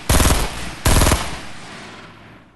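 Rapid automatic gunfire from a weapon in Fortnite on PS4: two loud, close bursts of fast shots, each about a third of a second long, with a decaying echo tail.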